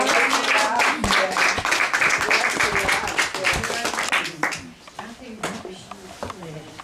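Audience applause at an award ceremony in Rome, a dense burst of clapping that fades out over a few seconds while a voice speaks over it throughout.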